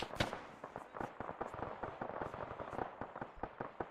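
Rapid, sharp gunshots from a designated marksman in the military video game Arma 3, cracking in dense irregular bursts with many close reports and echoing tails, loud throughout and no voices.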